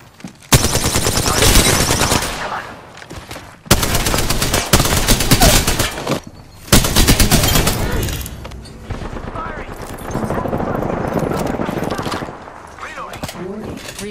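Gunfire aimed at the player in the video game Apex Legends, several loud rapid automatic bursts separated by brief gaps, with a voice speaking over the shooting in places.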